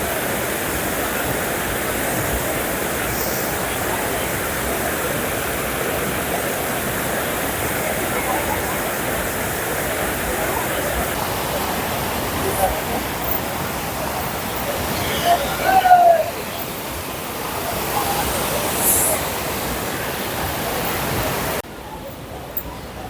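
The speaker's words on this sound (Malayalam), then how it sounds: "നമ്മളിപ്പോൾ മഞ്ചാഗിരി വാട്ടർഫോൾസിന്റെ വ്യൂ പോയിന്റിലെത്തി" Manjhagiri waterfall in Sikkim in light rain, a constant loud rushing roar of falling water filling the scene, with a voice speaking faintly over it briefly.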